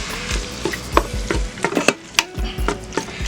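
Marinated beef searing in an electric pressure cooker on its sear mode, with close, uneven clatter of a utensil scraping and stirring over a soft background sizzle, no voices.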